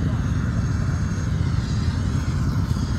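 Helicopter rotor and engine noise at the start of the Dakar 2024 rally, a steady loud low drone under a hot outdoor crowd setting, continuous with no clear breaks, with people talking nearby.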